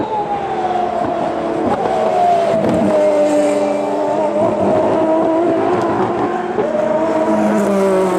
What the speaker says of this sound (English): with that aforementioned V12 engine. I mean, listen to this thing.